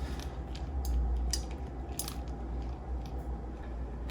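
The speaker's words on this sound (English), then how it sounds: "next I'll sprinkle on some mixed nuts" Mixed nuts are sprinkled onto a banana split, making scattered light ticks and patters against the dish over a low background rumble.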